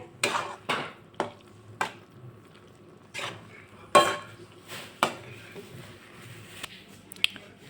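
Cheese sauce pasta is stirred and spooned into a serving bowl, giving a series of sharp metal spoon clinks and scrapes against the pan and bowl, spaced unevenly with soft squishy stirring between them.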